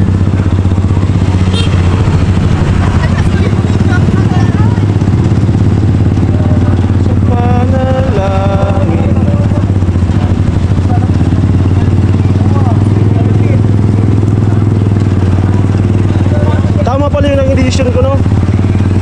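Motorcycle engine droning steadily and loud throughout while riding, with a constant low hum, and voices talking over it at intervals.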